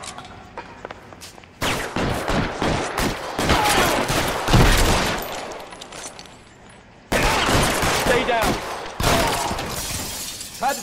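Gunfire in LA Noire, loud bursts of close shots and shattering impacts in two separate volleys with a short lull between, a few quieter sounds before the first burst.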